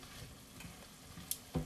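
Sausage being stirred in a frying pan, a faint steady sizzle with a few soft scrapes and clicks of the utensil, quiet and close, no talk.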